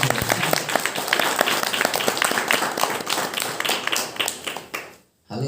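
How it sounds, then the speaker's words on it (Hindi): A church congregation claps loudly together, rapid overlapping hand claps forming a lively burst of applause that cuts off abruptly near the end before resuming briefly. "एक बार जोरदार तालियां बजाएं।"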